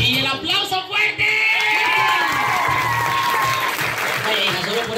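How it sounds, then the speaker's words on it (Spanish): Audience at a lively children's entertainment show breaks into strong applause with cheering and children shouting, loud and close, with voices mixed into the clapping. "Y el aplauso fuerte."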